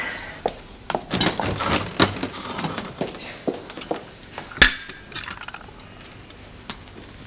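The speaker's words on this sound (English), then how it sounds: "Ernest, aren't you going to take your pots away?" Crockery and pots being gathered up and cleared from a table in a 1973 domestic setting, heard as a run of scattered clinks, knocks and clatters of varying loudness, with one sharp louder clack near the middle and quieter handling afterwards.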